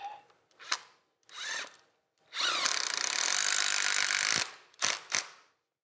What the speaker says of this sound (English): take my hammer drill, go through the hole that is here, and just tap it